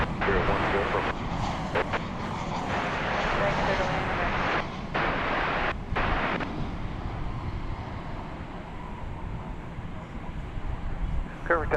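A Boeing 737-900 jet airliner taking off at DFW Airport at night, a loud broadband engine roar heard from a distance, steady and sustained with wind buffeting on the microphone.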